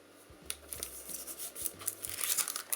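Paper crinkling and rustling as it is folded over for a Cricut fringe heart, soft close handling noises with uneven bursts and a low hum underneath.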